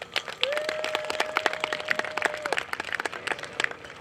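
A crowd applauds a player's introduction before a high school girls' soccer match, a dense patter of many hands at moderate volume, with a long steady whistle-like tone running through the first half.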